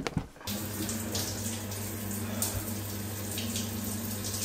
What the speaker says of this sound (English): I stink, so I'm going to have a shower.